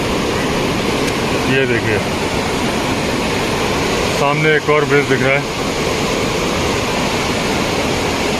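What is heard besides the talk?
rushing river below bridge, Turtuk Ladakh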